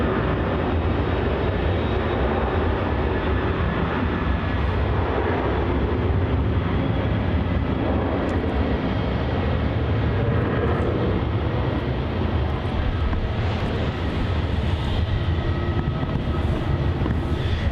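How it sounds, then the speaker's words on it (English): Air New Zealand flight NZ123 landing on runway 34 at Melbourne Airport in winter light, heard as a loud, steady jet roar that fills the whole stretch without letting up and with no talking. "Landing next, we have Air New Zealand flight NZ123 making a a rare arrival on runway 34"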